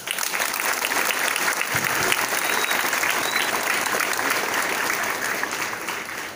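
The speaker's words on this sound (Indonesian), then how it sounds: "Tepuk tangan sekali lagi." Students at a junior high school flag ceremony applaud together outdoors, a dense, even wash of clapping that holds steady for several seconds before tapering slightly at the end.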